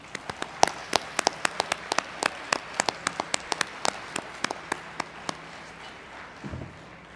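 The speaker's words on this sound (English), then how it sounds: "Let's give them all a hearty round of applause." Sparse, scattered handclaps from a small audience at a gala awards dinner, sharp separate claps in an uneven rhythm over a quiet room, thinning out near the end.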